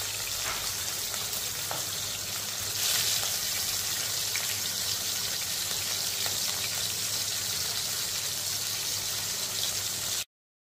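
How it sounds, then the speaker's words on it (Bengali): Fish bones frying in hot oil in a pan for kanta chorchori, a steady dense sizzle with a low constant hum underneath, holding at an even level throughout before cutting off abruptly. "প্রতি পাশ 3-4 মিনিট করে ভেজে উঠিয়ে নেব।"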